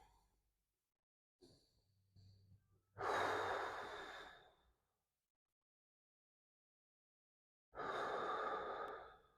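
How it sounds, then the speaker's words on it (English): Deep breathing during a full body stretch, two long loud exhalations separated by a silent gap, with a faint earlier breath. "Go ahead and give me 3 big breaths here."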